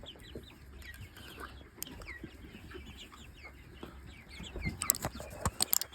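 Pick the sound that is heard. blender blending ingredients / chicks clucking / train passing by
chicks clucking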